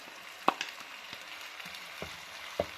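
Blended paste of one medium onion goes into a pan of sizzling achari chicken karahi, giving a soft, steady frying hiss broken by a few sharp spatula clicks and scrapes.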